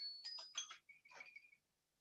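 An electronic timer alarm going off during a lecture on green bonds, a short run of quick high beeping chirps followed by a second shorter burst, faint and alone.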